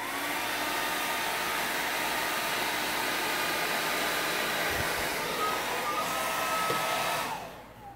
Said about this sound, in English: Also not a bad idea to do it with just the hairdryer first.